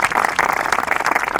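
Studio audience applause for guests on a Pakistani talk show, a dense steady patter of many hands clapping close by with no voices over it.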